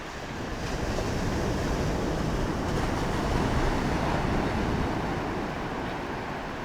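Big ocean waves crash and roar in a continuous, loud wash of surf with wind buffeting the microphone, heard near the shore or out on the water, with no voices.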